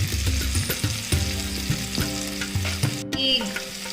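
A salmon steak fries in a pan with lemon juice squeezed around its sides, producing a loud, close, continuous sizzle and crackle with faint stirring scrapes, and nobody speaks.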